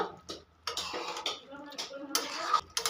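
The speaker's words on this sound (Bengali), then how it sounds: "ঘিটা খুব ভালো করে মিশিয়ে নেব" Half a teaspoon of ghee being stirred through jackfruit curry with potatoes in a pan, a few brief clinks and scrapes of a spoon against metal, close and moderately loud, with short gaps of quiet between strokes.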